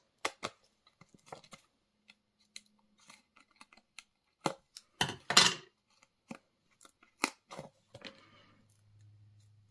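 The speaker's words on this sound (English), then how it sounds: "you can cut a little piece off the side of your dimensionals" A pair of scissors snips small dimensional foam pieces for a handmade greenery greeting card, making sharp, separate clicks and crisp cuts at irregular intervals with quiet pauses between, close and clear, ending in a faint low hum.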